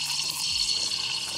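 Espresso machine steam wand aerating milk in a pitcher, a steady close hiss with soft bubbling and gurgling, continuous and fairly loud with no talking.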